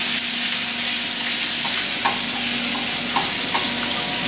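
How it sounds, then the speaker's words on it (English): Lean ground beef, 90 percent lean, is stirred and broken up as it fries in olive oil, with a steady hiss and sizzle broken by a few soft scraping strokes of the utensil. "we're going to throw this in the pan. we're going to stir that around"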